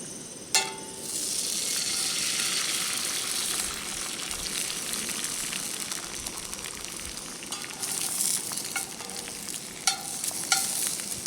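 An egg sizzles steadily in a frying pan beside Spam and a bagel, a loud, continuous crackling hiss with a few sharper pops.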